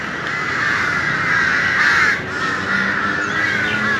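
A flock of ravens caws steadily in a park in Bangkok, several birds calling at once at close to middle distance in a continuous harsh chorus, with no talking.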